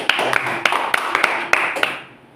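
Classroom applause for a student at a junior high school: a short burst of scattered hand claps, fairly close and loud, about a handful of sharp beats over two seconds before fading out.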